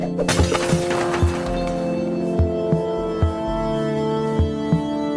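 Glass crystals shatter in the mobile game Smash Hit, several crisp smashing hits landing at roughly regular intervals over a steady electronic music backdrop.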